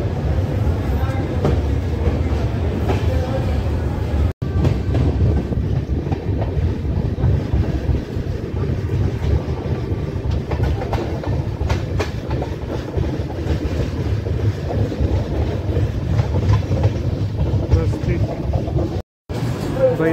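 Shaheed Express 14673 running steadily after pulling out of Basti Junction, with a continuous loud rumble and rhythmic clickety-clack of wheels on rail joints heard from inside the coach, plus faint background voices.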